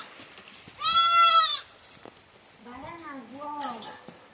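A young goat kid gives one loud, close, quavering bleat, followed by softer, lower wavering calls that may be a person's voice.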